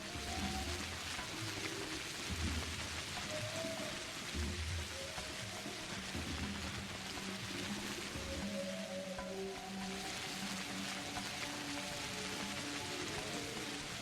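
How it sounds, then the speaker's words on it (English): Steady, dense rainfall in the video game Pathologic patters across the whole stretch, with soft low tonal sounds drifting underneath; no voices. "I hate the rain in this game. It's so loud."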